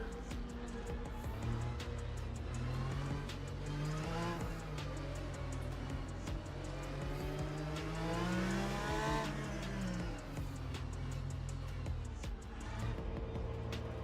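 Porsche GTE race cars in Le Mans Ultimate, engines droning and revving continuously up and down through the gears, with other cars running close by in a dense, steady roar.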